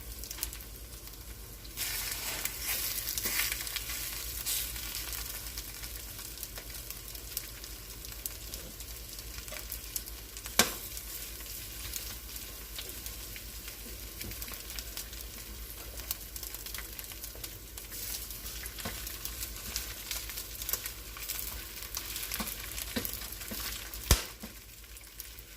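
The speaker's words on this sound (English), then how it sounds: "We coat our meat and sear it first." A flour-coated beef steak sears in a pan for Puerto Rican steak in salsa, giving a steady, close, continuous sizzle and frying hiss with a few louder pops and no voices.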